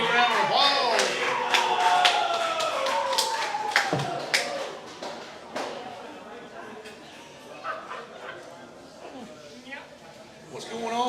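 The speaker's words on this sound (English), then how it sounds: "Everybody give a round of applause." Audience applause at a football coach's show honoring senior player Hayden Grimmett, scattered clapping and whoops mixed with chatter and a dog barking nearby, moderately loud and uneven, trailing off toward the end.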